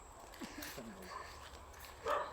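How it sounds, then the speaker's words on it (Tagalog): A dog barks a few times amid outdoor chatter, the barks fairly soft and partly buried under people talking nearby. "Ayun o, tumatahol."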